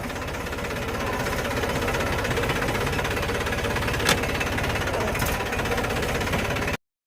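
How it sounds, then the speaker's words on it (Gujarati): A tractor drives a rotavator fitted with new blades through a field, its engine chugging in a steady heavy rhythm at close range, continuous and loud until it cuts off at the end. "હવે રોટાવેટર મારવાનું ચાલુ કરીએ."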